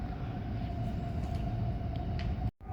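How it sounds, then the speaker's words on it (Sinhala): Riyadh Metro train approaching a station, a steady low rumble with a faint sustained whine, fairly quiet and alone, cutting off abruptly at the end. "අපිට එතනින් එනවා ට්‍රේන් එක."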